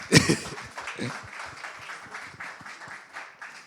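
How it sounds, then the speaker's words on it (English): An audience at a financial literacy talk on stock market investing gives a short round of applause. One sharp, loud burst at the start settles into lighter, scattered clapping that fades and keeps going. "can we give her another round of applause?"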